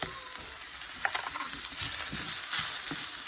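Scallions and pepper are tossed into hot oil in a pan and fry with a dense, bright crackling sizzle, close and steady, with a few stirring scrapes and no talking.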